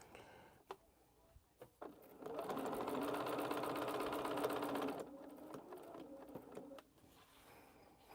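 A sewing machine runs in one steady, loud burst of stitching lasting about three seconds during a quilting session, framed by quieter clicks and handling sounds before and after.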